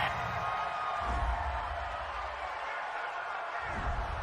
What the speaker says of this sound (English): Well, this crowd does not like that call.